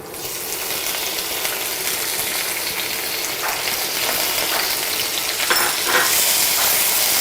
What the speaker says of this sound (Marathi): आणि टोमॅटो 1-2 मिनिट मी फक्त परतून घेणार आहे